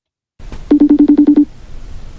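A run of eight evenly spaced touch-tone beeps from a telephone being dialed for a call, loud and close, preceded by a brief handset click and followed by faint line hiss.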